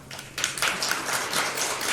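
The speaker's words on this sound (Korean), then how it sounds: "크게 격려의 박수 주시기 바랍니다" A church congregation at a Christmas service breaks into applause after a brief quiet moment, the clapping swelling into a steady, dense patter from many hands around the room.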